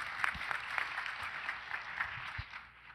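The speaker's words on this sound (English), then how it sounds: "Give yourselves a little round of applause." Brief applause from a conference audience at an education talk, a few seconds of moderate clapping that fades out toward the end, heard alone without talk.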